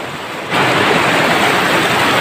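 A waterfall in Goiliang near Hayuliang in Anjaw District, Arunachal Pradesh, tumbles from high above over rocks into a river, a loud, steady roar that swells abruptly after a brief quieter moment, with no voices.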